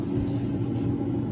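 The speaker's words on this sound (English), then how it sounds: "So we'll give it a little spray down" A spray bottle mists a Highland cattle brisket on a grill set to 225, giving a steady, close hiss that runs unbroken for about a second with no talking over it.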